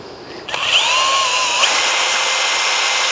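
A green Makita power drill stirring sugar syrup for feeding bees whirs up to speed and runs steadily, its motor pitch rising and holding a constant whine with no talking.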